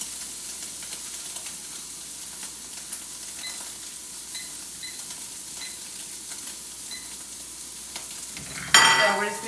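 Food sears in a hot pan with a steady low sizzle, faint and continuous, with light clicks, until a louder burst of spattering hiss near the end.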